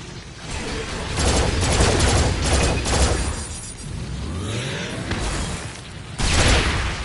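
Gunfire in the shooter game Farpoint, with loud, sustained bursts of rapid shots mixed with mechanical clatter and booms, a short lull, then a fresh heavy burst near the end.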